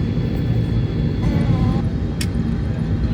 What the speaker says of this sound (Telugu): సో ఇప్పుడు చూడండి విస్తారా ఫ్లైట్ ఎలా టేక్ ఆఫ్ అవుతుందో.